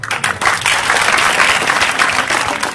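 Audience applause fills a ceremony hall at a birth anniversary festival inaugural event, a dense, steady wash of many hands clapping loudly and continuously throughout, with no voices standing out.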